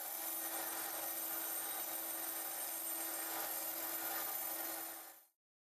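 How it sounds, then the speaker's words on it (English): Steady abrasive rasping of sandpaper scrubbing a heat-treated steel knife blade, continuous for about five seconds before stopping abruptly. "After heat treatment, sanding was required for cleanup."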